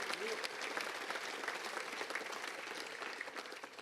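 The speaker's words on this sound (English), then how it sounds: "let's give them a round of applause" Sustained applause from a crowd at a high school honor society and hall of fame ceremony, dense and fairly steady, with faint voices underneath.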